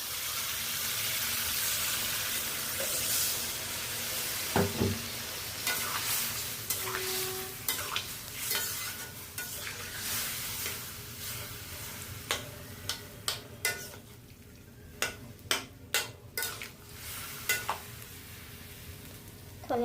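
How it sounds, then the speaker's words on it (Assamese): Cabbage frying in a pan, a steady sizzle with a spoon repeatedly scraping and stirring, sharp ticks of the utensil against the pan, and a brief louder hiss as hot water is poured in. "এইটো অলপ ফ্ৰাই কৰি লওঁ এতিয়া ইয়াতে অলপ গৰম পানী ঢালি দিম"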